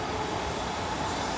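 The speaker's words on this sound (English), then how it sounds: "I hear a train." A train passing at Seaforth, a steady, fairly faint rumble with a broad wash of noise that holds even throughout, with no voices.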